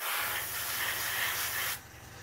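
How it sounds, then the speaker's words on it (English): A spray can lays a green base coat on model weapon parts, a loud, steady, close hiss that cuts off abruptly near the end, leaving a quieter background. "I'm going to spray them green anyway"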